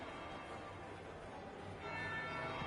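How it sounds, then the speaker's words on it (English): A bell tolls in Dragon Age: Inquisition during the Wicked Eyes Wicked Hearts quest, a steady resonant ring whose tone grows brighter and louder partway through, heard alone without talk. "That would be the second bell."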